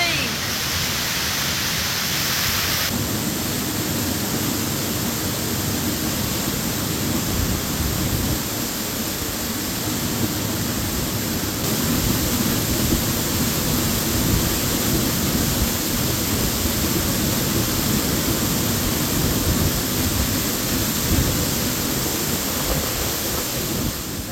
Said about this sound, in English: Waterfall number 3.